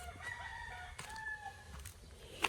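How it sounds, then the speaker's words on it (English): Rooster crowing near a house under construction in the Philippines, two long drawn-out crows in succession with faint clucking behind, fairly close and clear with no talk. "He's crowing all day long."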